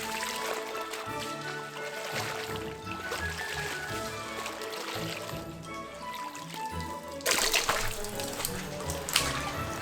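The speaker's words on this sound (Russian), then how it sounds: "Промываем 3 раза, чтобы убрать соль." Water splashes and sloshes as salted cabbage is rinsed in a basin for kimchi, with music playing in the background and a louder burst of running water near the end.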